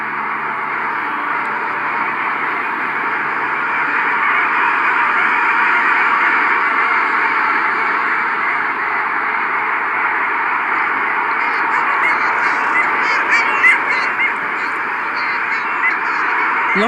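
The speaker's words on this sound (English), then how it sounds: "Hundreds of long-tailed ducks fly in from the north." A dense, steady chorus of calls from a large flock of long-tailed ducks in Shetland, continuous and loud throughout with no pauses.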